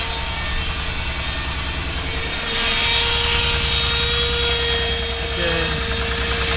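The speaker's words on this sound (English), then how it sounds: "Now we have 3 machines running. The steam engine, the water pump" A model steam engine, water pump and Stuart 5A engine running under 70 psi steam, a steady mechanical hum with a rhythmic chugging pulse and a constant whine, loud and close, without speech.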